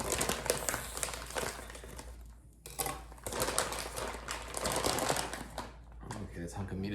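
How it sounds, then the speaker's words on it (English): Plastic packaging around a large tomahawk bone-in ribeye is cut and torn open, giving a close, busy stream of crinkling and rustling with short pauses, a voice heard at times. "Cut the packaging open for the ribeye."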